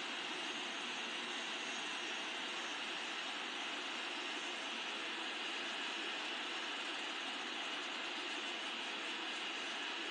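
A Boeing 777-300ER taxis in the flight simulator game Infinite Flight, with a steady, even jet engine whine and rumble holding constant throughout, with no voices.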